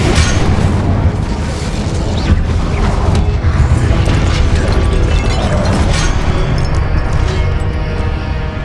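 Booming, crackling blasts from the Incendio fire spell in Hogwarts Legacy gameplay, loud and continuous, with dense rumbling low end and sharp bursts layered over a steady roar, no talking.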